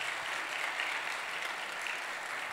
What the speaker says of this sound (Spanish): ¿por qué no damos un aplauso eso a Jesús?